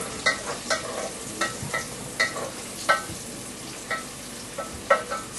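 Leek and carrots fry in oil in a pan, giving a steady sizzle broken by regular scraping stirs, close and moderately loud.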